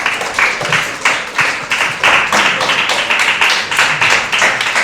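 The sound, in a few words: audience applause welcoming a speaker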